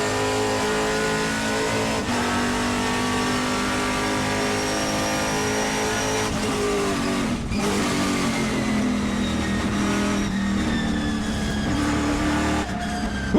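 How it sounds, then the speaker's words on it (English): Trans Am TA2 race cars roar past at a road course in Portland, loud and near, their engines howling and shifting through gears in a continuous dense wall of sound. A brief gap in the noise comes partway through. "with the ground pounding of these TA2 cars"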